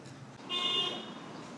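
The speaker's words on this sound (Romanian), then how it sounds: "Oamenii claxonează, ca în România." Car horns sound in street traffic in Hurghada, Egypt: one fairly close honk that lasts about half a second, over a background of traffic rumble.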